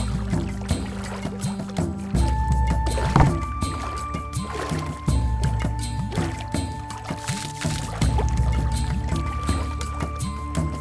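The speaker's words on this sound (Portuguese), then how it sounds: "a mandioca passa por mais um processo de lavagem, onde os resíduos restantes da descasca são removidos" Peeled cassava washed in water during processing: continuous sloshing, splashing and trickling of water with drips and gurgles, backed by a steady mechanical hum and tonal machinery whine.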